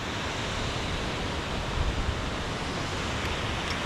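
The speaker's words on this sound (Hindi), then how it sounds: "देखो इधर झरना गिर रहा है और एक उधर है।" A waterfall pours near a riverside in hilly country, giving a steady, dense roar of rushing water that fills the whole moment without pause or talk.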